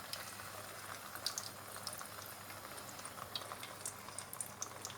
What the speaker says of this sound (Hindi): इसको 2 बैच में फ्राई करेंगे, क्योंकि एकदम अगर डाला तो जो ऑयल है उसका प्रेशर लो हो जाता है।